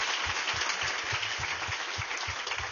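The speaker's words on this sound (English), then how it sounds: "Can we give him a round of applause for that overview?" Audience applause for Erwin Chemerinsky after his overview at a Supreme Court term-in-review panel: a steady, moderately distant wash of clapping holding evenly for a few seconds.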